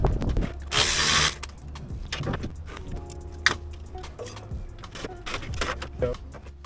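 Wrench work on the nuts and bolts of a radiator fan shroud during an AWD C10 Escalade chassis swap, with a long harsh ratcheting burst near the start followed by scattered metallic clicks and clanks at close range.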